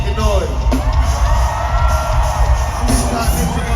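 A concert crowd at a Wiz Khalifa show cheers, yells and screams, a dense and loud roar of many voices that keeps going without a break.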